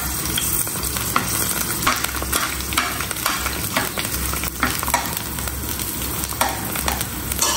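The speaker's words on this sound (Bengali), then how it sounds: "আলাদা আলাদা করে ভাজতেছি" Green chillies, garlic cloves and dried red chillies sizzle and crackle in oil in a frying pan, a dense, continuous spitting hiss with occasional stirring scrapes, close and loud throughout.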